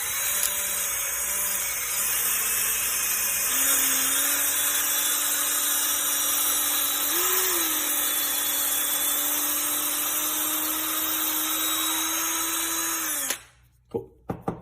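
Power drill boring steadily through a fishing rod foregrip grip for a custom rod build, a continuous whine running close and loud before cutting off near the end with a few short knocks.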